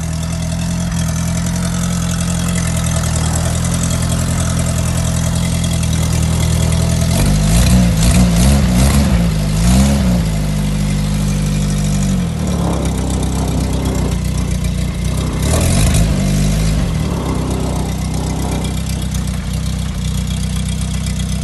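A cold Renault Dauphine engine on choke, idling loud and close with a steady low rumble, then revving in two or three surges before settling back to idle.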